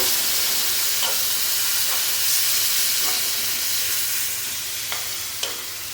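Leftover ground biryani masala paste frying in a pan while it is stirred, giving a steady close sizzle and hiss with a few soft scraping knocks of the spoon against the pan and no talking.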